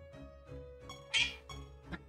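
A meowing duck creature from the video game Siralim Ultimate gives a short, cat-like meow rising out of steady game music, with fainter mewing blips around it.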